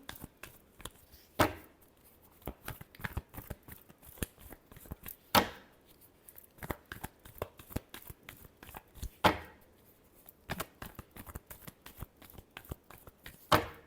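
Tarot cards are shuffled by hand with repeated quick riffles and soft slaps in an irregular rhythm. A few sharper bursts stand out, all close and fairly quiet with no talking.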